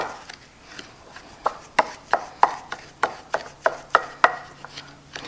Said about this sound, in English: So I'm mixing it up